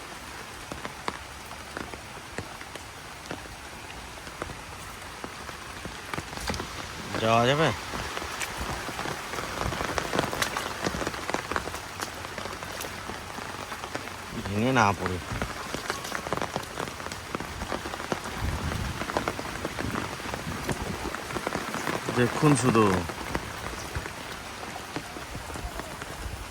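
Heavy rain pours steadily onto surfaces outdoors after a night of downpour, a dense, even hiss and patter throughout, with brief quiet voices speaking now and then.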